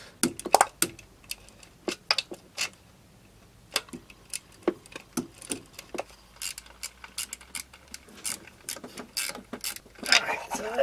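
Ratchet wrench tightening 8mm nuts onto exhaust pipe tabs over studs on a 2002 Mercury Sable, heard as a long series of quick, sharp clicking bursts at close range, stopping and starting irregularly.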